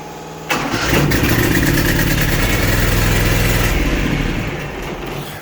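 A riding mower engine with a suspected blown head gasket cranks and fires, then runs loud and rough for a few seconds before dying away, close up and alone.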